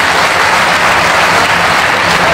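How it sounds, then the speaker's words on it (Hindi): At a Hindi poetry gathering an audience gives loud, dense applause in honour of poet Yogendra Sharma from Rajasthan, a steady, close wall of clapping with no talk over it. "जोरदार इसके सम्मान में आप ताली बजाएं"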